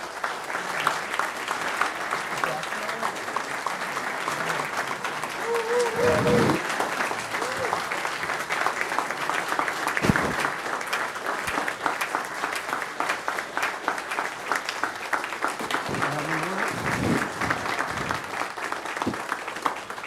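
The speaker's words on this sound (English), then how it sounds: "Let's give her a round of applause." An audience at a city council meeting applauds an award recipient, a long, steady wash of clapping with a few louder bursts and brief voices mixed in over about twenty seconds.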